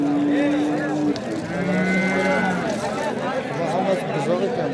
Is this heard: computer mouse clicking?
no